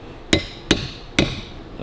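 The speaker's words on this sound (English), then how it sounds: "You shouldn't have to hammer bearings out like that." Three sharp metallic hammer strikes ring out at a steady pace, each with a brief bright ring after the blow, hammering out gearbox clutch bearings on a Harley-Davidson WLA motorcycle.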